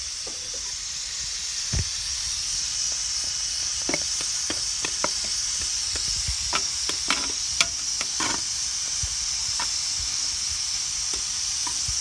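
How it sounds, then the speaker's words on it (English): Agar heating in a pot on the stove, stirred by hand, giving a steady soft sizzle and hiss with scattered faint scraping clicks and taps from the stirring, close and quiet. "So that's agar heating up, and let me get my stir."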